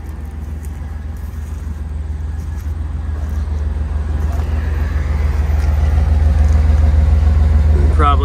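Engine of a 1989 Chevrolet G20 conversion van idling smoothly and steadily nearby, a low even rumble that grows slightly louder, with someone speaking briefly at the end.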